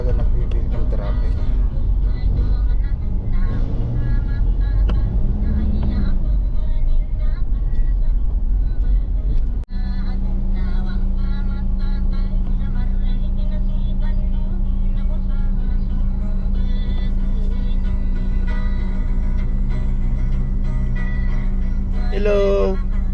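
Road traffic on the coastal road along Manila Bay near Baclaran: a steady low engine rumble and passing vehicles heard from a ride, continuous and fairly loud, with some talk in the background.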